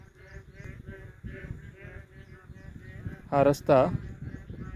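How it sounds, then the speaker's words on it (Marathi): Frogs croak in a pulsing, rhythmic chorus on an overcast, rainy monsoon evening, continuing under someone talking, with a louder close burst near the end. "आणि बेडकांचा आवाज बघा."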